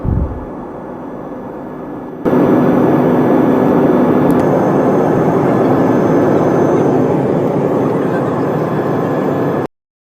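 Airplane cabin noise during a flight from Accra to Tamale: a steady, loud broadband roar of engines and air that jumps up in level after a couple of seconds and holds constant to the end.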